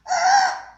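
A voice imitates a rooster crowing, one short, loud, nasal cock-a-doodle cry rising and fading within under a second, heard up close and alone.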